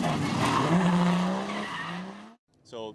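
A drift car skids at a racetrack, its tires squealing loudly in a long sustained screech that fades out, followed by a short faint second squeal.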